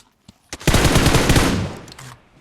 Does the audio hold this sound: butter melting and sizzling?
no